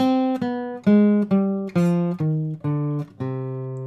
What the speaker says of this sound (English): We're going to do the C harmonic minor scale starting on C.